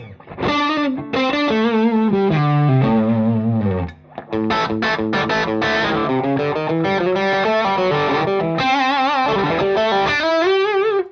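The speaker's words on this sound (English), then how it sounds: "if I throw the overdrive pedal in the mix" Electric guitar through an overdrive pedal and two amps at once, playing a loud, continuous riff with bends and chords, thick distorted tone, one brief pause partway through.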